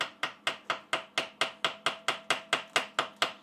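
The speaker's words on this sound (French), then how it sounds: "quand vous voulez reprendre une soudure sur une soudure, il faut ce qu'on appelle casser le laitier" Hammer tapping lightly and steadily to chip welding slag off a small weld during a repair, about fourteen sharp metallic ticks at an even quick rhythm, close and fairly quiet, with no voice.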